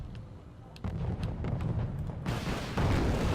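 Mortar fire in Wargame Red Dragon, a run of dull booming impacts, with a sharper burst near the start and heavier, louder blasts building toward the end over a constant rumbling battlefield bed.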